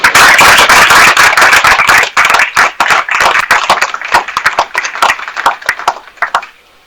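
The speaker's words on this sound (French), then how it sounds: "Il faut applaudir le comité d'organisation." A crowd at a political rally in Anono applauds the organizing committee with loud, crisp clapping that starts dense and gradually thins into scattered individual claps before fading out.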